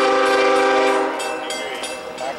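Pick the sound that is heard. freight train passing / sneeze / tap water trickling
freight train passing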